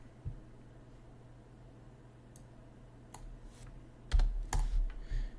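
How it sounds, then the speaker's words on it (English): Keys tapped on a computer keyboard while modding Age of Empires IV during a live stream, faint scattered clicks at first, then a louder burst of quick taps near the end. "So I'm typing on the other screen right now"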